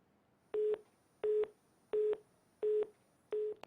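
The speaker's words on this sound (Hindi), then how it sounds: "ये भी फोन डिस्कनेक्ट हो गया है" A phone line gives five evenly spaced disconnect tones, clear mid-pitched beeps with short gaps between them, heard alone with no talking.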